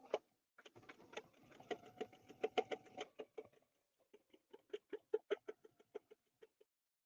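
A sewing machine stitches an embroidery design in quick, rhythmic bursts of needle strikes, pausing briefly before a second, more evenly spaced run of clicks; quiet and close with no talk.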